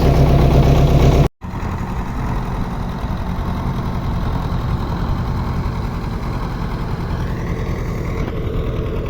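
An MTZ-82.1 tractor diesel engine, running after a clutch repair, chugs in a steady, loud idle close by, with a brief abrupt dropout early on before the continuous rumble resumes; no talking.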